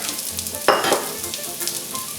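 Onions drop into hot oil for a cheesesteak with a sudden loud sizzling burst, then keep crackling steadily while being stirred around the pan.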